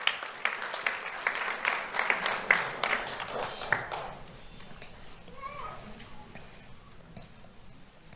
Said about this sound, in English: Round of applause for Finn Collins